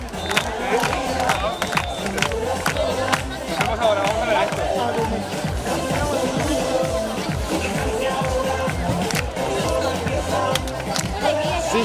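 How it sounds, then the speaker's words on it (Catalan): A crowd at a women's beach handball match between a Catalan national selection and a Beach Stars team claps and cheers steadily, its dense rhythmic applause mixed with shouting and babble and continuing throughout. "Vinga, aplaudiments de l'hora, som-hi, va! Aplaudim!"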